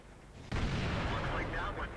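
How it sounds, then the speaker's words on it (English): Artillery shells land during a World of Tanks battle around an E-75 heavy tank, a sudden loud boom that rolls into a long rumbling, crackling blast for over a second. "And there's artillery again."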